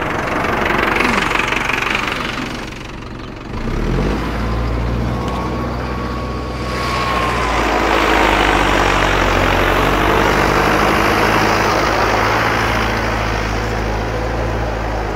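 Diesel engine of a Mahindra Arjun Novo 605 4x4 tractor, 57 hp turbo with a modified pump, running steadily and loud throughout with a constant low rumble, dipping briefly then rising again as the revs pick up.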